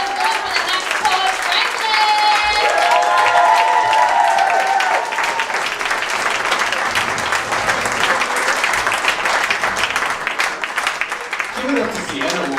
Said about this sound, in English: Keep that applause going for the next poet